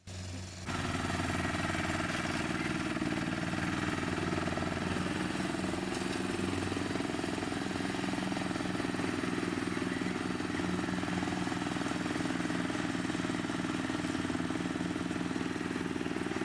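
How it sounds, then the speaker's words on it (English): Lawn mower cutting grass on a farmhouse property in France, its engine starting abruptly and then droning steadily and loudly without pause, close by and with no one talking. "the grass needed mowing several times a week"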